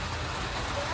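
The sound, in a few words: heavy rain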